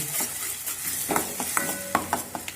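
A spoon stirs green chutney into fried onions in a pan over low heat, with soft scraping strokes and a few sharp clinks against the metal above a gentle, steady sizzle.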